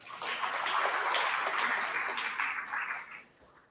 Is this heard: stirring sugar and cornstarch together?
no